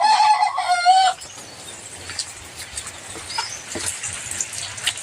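A rooster crows loudly and close for about a second, followed by softer scattered clucks and faint rustling in the background.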